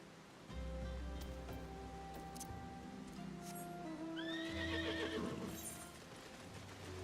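A horse in a video game gives one loud neigh and whinny, backed by clip-clop hooves and the wash of waves.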